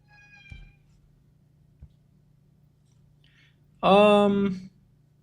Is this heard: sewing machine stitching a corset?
no